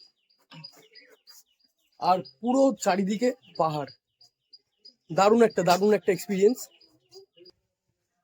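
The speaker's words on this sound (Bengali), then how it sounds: "পাখির কিচিরমিচির" Birds chirp in the Kuldiha forest, a wildlife sanctuary ringed by hills, with faint high tweets scattered throughout while a person speaks close by over them.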